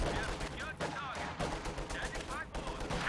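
Rapid gunfire in a Company of Heroes 2 battle as guards fire on Fox Grenadiers, dense crackling bursts running the whole time with a voice talking over it.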